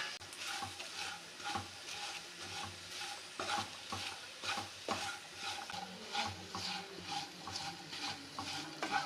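Potatoes tossed with spices in a frying pan, stirred continuously with rhythmic scraping strokes over a steady close sizzle, fairly quiet overall.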